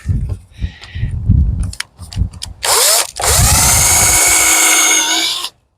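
A power drill drives screws into a wooden potato box: a loud, steady motor whine runs for about three seconds after a spell of knocking and handling sounds, then cuts off abruptly.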